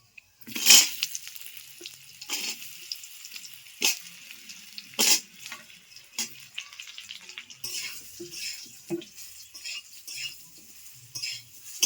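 Raw mango pieces go into a pan of hot oil with five-spice, giving off a scattered sizzle with sharp clinks of a utensil against the metal pan and some stirring scrapes.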